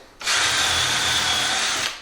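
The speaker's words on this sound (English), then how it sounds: "drill a pilot hole" A power drill boring a pilot hole for a screw whirs steadily at high speed for nearly two seconds, starting and stopping abruptly, loud and close.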